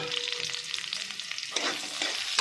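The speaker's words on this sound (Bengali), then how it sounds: "তেলের উপরে কাঁচা লঙ্কা আর শুকনো লঙ্কাটা দিয়ে দিচ্ছি" Green and dried chillies hit hot oil in a wok with a bright, close sizzle, the crackle swelling midway as stirring continues.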